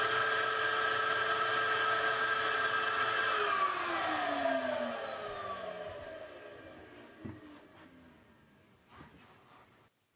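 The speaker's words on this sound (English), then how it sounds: "took it out, turned the vacuum on, plopped this right down on it." A vacuum forming machine's vacuum motor, used on PLA, whines loudly, its pitch sliding downward as it spins down and fades, leaving a few faint clunks afterward.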